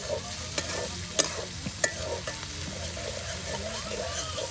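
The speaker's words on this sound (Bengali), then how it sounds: "দেখুন একদম মরিচ পেঁয়াজ একসাথে ভেজে নেওয়া হচ্ছে" Chili and onion frying together in a pan, a steady close sizzle broken by a few sharp clicks of a utensil against the pan.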